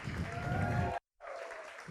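A church congregation applauds during a morning service, a broad wash of clapping that breaks off briefly and then resumes a little softer, with voices mixed in.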